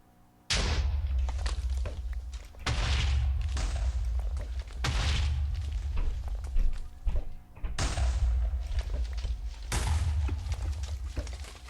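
Primed TNT set off by a thrown snowball acting as a hand grenade in Minecraft: four loud, deep booming blasts in a row, each one rumbling out before the next, with no talking.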